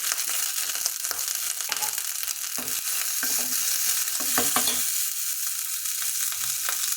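Cumin seeds and black peppercorns fry in butter in a pan, a loud steady sizzle and crackle with scattered stirring clicks and scrapes throughout.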